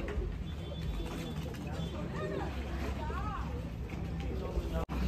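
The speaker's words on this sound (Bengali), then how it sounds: "দেখো এক হাত পায়রা" Pigeon cooing among a flock of Sakdum pigeons, soft repeated coos blended into a steady noisy background with some murmuring voices.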